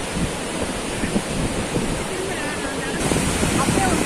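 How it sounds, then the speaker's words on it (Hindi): River water rushes steadily below a swaying footbridge, a broad continuous roar mixed with wind buffeting the microphone, with faint voices in the background. "ये आया जी पुल जो हिलता है और नीचे नदी की आवाज़ आप"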